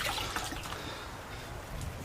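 Water splashes and trickles steadily onto a car's paint surface at close range before wet sanding, a continuous wet rushing with no voices.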